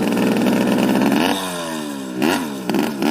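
A vehicle engine revs loudly and close, then drops in pitch as it shifts into second gear and pulls again, with a couple of short throttle bursts at the end.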